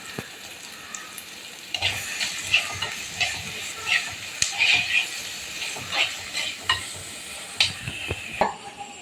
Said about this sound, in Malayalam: ചിക്കൻ നന്നായി വഴറ്റുക